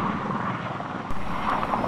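A firefighting helicopter flies over a bushfire in New South Wales, Australia, its rotor and engine making a constant broad roar at moderate distance.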